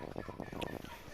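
Chickens at a forest eco resort near Jaldapara, faint, soft clucking and gobble-like calls in a few short bursts.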